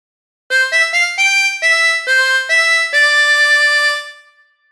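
A tremolo harmonica plays a phrase of Oh When the Saints, bright wavering reedy notes in a short rhythmic run, loud and close, fading out on the final held note.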